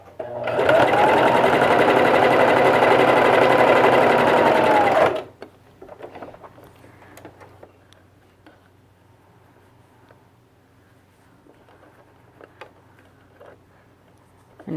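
A sewing machine stitches a fabric face mask in one loud, steady run of about five seconds, close up, then stops, leaving faint handling clicks and rustles of fabric.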